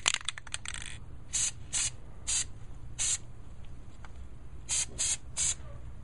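Short bursts of aerosol spray paint hiss over primed, previously rusted snowblower parts, about seven distinct puffs spaced a second or so apart after a few quick clicks, close and moderately loud against a low background hum.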